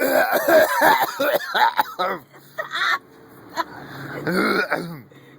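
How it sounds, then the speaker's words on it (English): A person coughs up mold spores and clears their throat several times in a rough, hacking series, with brief talking mixed in. "I'm coughing up like mold spurs"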